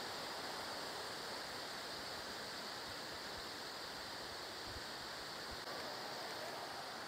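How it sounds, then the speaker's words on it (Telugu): Steady broadband roar of a waterfall at Kothapalli during the monsoon, a continuous even rush of falling water with no voices, fairly distant and moderate in level. "సో చూసారు కదా, మంచి వ్యూతో వచ్చిన వాటర్ ఫాల్ అనమాట."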